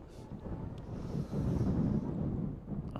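Gusting wind buffets an outdoor microphone at an under-16 Gaelic football final in Ulster, a steady low rumble that swells louder midway and then holds, with no talk.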